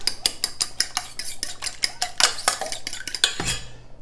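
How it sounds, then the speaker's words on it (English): Two eggs whisked briskly in a bowl: a quick, steady run of rhythmic metallic clicks and taps of the whisk against the bowl, close and clear, with no voices. "And then here we've got 2 eggs. Whisk those up."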